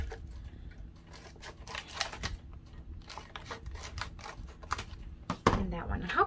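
Scissors cutting decorative pieces for a vase makeover, a string of close, crisp snips and paper-like crunches in an uneven rhythm, with a louder handling clatter near the end.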